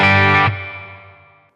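A distorted electric guitar chord through a Boss Katana amp strikes loudly, then rings out in a long, washy reverb tail that slowly fades over about a second.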